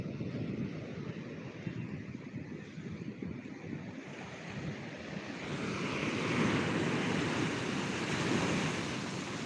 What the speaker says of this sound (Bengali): গাডওয়াল টপকানো সেরা জলোচ্ছ্বাস দীঘার বুকে